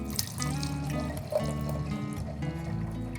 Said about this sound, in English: Press and hold the button to pour wine.